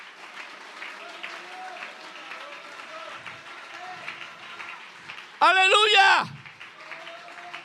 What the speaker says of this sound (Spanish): Dele ese aplauso con toda el alma